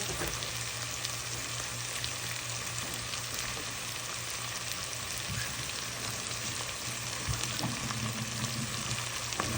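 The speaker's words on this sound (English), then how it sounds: "A nice tomato. Let's fry up." Tomato frying with sardines in oil in a pan for a Guyanese meal, a dense, continuous, loud sizzle with faint stirring underneath, heard up close and with no voices.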